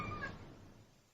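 A kitten's short meow in a radio drama, a single faint high cry at the start that quickly fades into quiet room tone.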